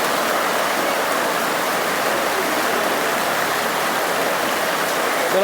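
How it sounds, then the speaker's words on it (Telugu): Heavy rain pours down in a constant, dense hiss, loud and unbroken throughout. "వర్షం బాగా పడుతుంది కదా"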